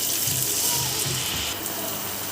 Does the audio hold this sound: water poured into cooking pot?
yes